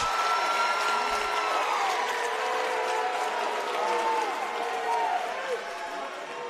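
At a Class AAA state championship high school basketball game, the Clark Prep crowd cheers and applauds a foul call, a loud, continuous roar in a gym with sneaker squeaks over it.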